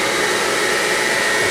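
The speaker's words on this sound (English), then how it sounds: "I'm just going to fire up the spindle while you're standing there on manual" An Eldorado M75-1041 deep hole gun drilling machine spindle running, a loud steady broadband whir with no change across the short stretch.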